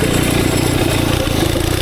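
Twin-cylinder, four-speed mini bike built from junkyard parts, engine revving hard in first gear: a loud, raw, continuous blatting roar with a fast throbbing pulse, close to the listener.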